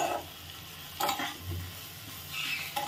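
Spice masala for a homestyle duck egg curry with potatoes, sautéed over a low flame: a soft sizzle beneath a few distinct scraping stirs against the pan, close and quiet.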